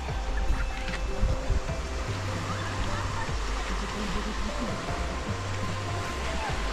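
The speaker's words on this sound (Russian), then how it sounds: "Смотрите, какой большой пляж." Waves washing onto a large, sparsely visited sandy beach in Crimea, a continuous broadband surf roar with wind buffeting the microphone, steady and moderately loud throughout.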